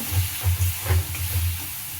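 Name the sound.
spices (masala) frying in oil in a pan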